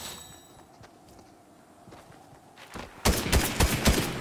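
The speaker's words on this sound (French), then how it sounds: "Bah, pourquoi il nous a tiré dessus?" Fortnite gunfire starts with scattered faint clicks and footsteps, then a rapid burst of several loud shots breaks out near the end, close and sharp.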